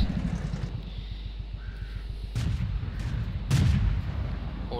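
Tank gun firing in World of Tanks, two sharp booming shots over a steady low engine rumble in the game.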